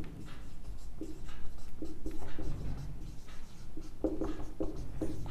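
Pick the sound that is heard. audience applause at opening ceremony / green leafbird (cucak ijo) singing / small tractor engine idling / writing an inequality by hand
writing an inequality by hand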